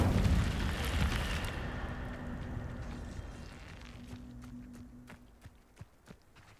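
An Incendio fire spell in a wizarding game erupts as a loud fiery roar and rumble that slowly dies away, leaving a low hum and a few scattered footstep-like taps.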